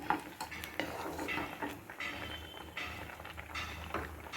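A ladle stirs chayote (chow chow) kootu gravy with lentils in a cooking pot, making close, repeated scraping and clinking against the metal, with no talking.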